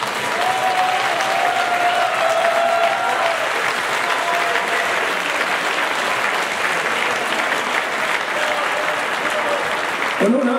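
A festival audience claps steadily for the veteran herdsmen at an Allgäu cattle drive celebration in Wertach, a dense, loud applause that holds for about ten seconds.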